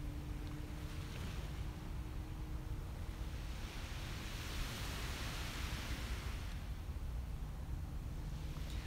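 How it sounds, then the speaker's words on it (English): Soft, steady surf washes onto a beach on a calm morning, a continuous low hiss and rumble without distinct breaking waves or voices. "The waves are quiet but very calming this morning."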